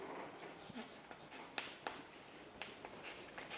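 Chalk or marker writing on a board during an accountancy lesson: faint, sparse scratchy strokes and taps in short irregular bursts, quiet and close.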